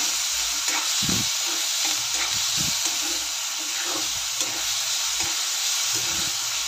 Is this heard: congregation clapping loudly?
no